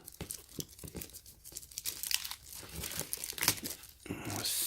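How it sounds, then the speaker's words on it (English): Cardboard box for Nike Air Max 97 OG x Undefeated sneakers being torn open by hand, with close, loud ripping and crinkling of paper and packaging in uneven bursts over a quiet room. "let's go ahead and get this unboxed"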